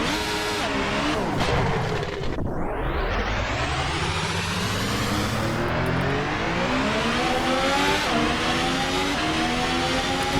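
The ASR-H Concept open-wheeler racer in Assetto Corsa screams at high revs, its engine note dropping sharply on a downshift, then climbing steadily through the gears, loud and continuous with no talking.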